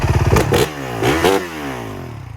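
A modern Honda CRF450R-powered three-wheeler trike engine revs in loud, close bursts, rising and falling twice in quick succession.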